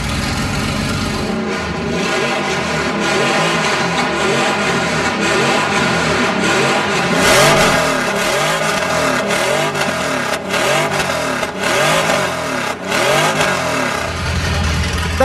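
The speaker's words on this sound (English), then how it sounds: "That was the sound of a 6-cylinder, 600-horsepower Boxer engine." A 600-horsepower six-cylinder boxer engine revs hard and repeatedly, loud and close, its roar rising and falling in bursts with a rough mechanical edge.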